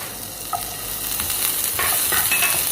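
Vegetables and a medium onion sauté in a pan, a steady close sizzle with a few soft stirring clicks, no voices.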